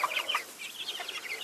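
Chickens cluck in a short burst of soft, quick calls nearby, with no talking.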